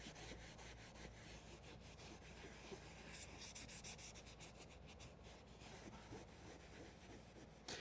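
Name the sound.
scrubbing leather car seat with scrubber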